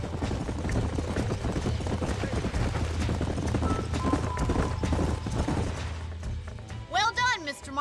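Horse hooves clip-clop in a steady, even rhythm in the video game Red Dead Redemption, close and prominent over a low rumbling background, stopping near the end as a voice speaks.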